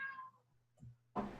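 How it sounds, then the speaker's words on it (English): A house cat meows close by, one drawn-out cry at the start, a faint chirp in the middle and a louder sharp meow at the end, with no talking. "my sister's cat keeps meowing a lot at me"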